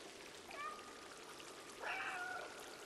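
A cat meows in the video game Stray, two faint, short, rising mews about a second apart over a soft steady water-like trickle in the background.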